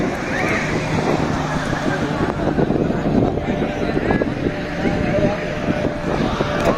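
Shivrajpur beach near Dwarka carries a continuous rumble of wind and surf, with wind buffeting the microphone and a voice talking over the outdoor ambience.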